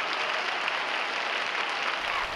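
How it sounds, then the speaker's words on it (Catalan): Students at a graduation ceremony applauding their families, a steady, dense wash of crowd clapping heard close and continuous throughout. "Els estudiants s'han girat per agrair i reconèixer l'esforç de les seves famílies amb un fort aplaudiment."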